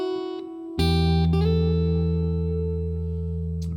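An electric guitar plays part of a riff, and a sustained, distorted chord rings out with the open E bass note, followed by a quick slide to a new pitch that then holds steady, loud and close.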